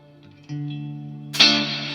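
Electric guitar through a Walrus Fundamental reverb pedal with the tone knob turned up: a sustained chord rings out, then a sharp, bright strum bursts in with a trebly, snappy wash of reverb trailing behind it.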